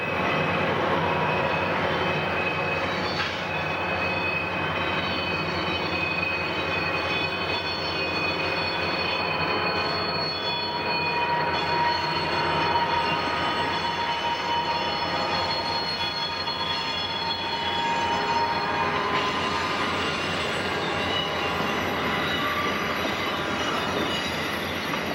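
A heavy coal train descends a 3% mountain grade at about 20 mph near Mitchell, its wheels squealing with sustained high-pitched shrieks over a continuous rumble of rolling railcars, with no voices.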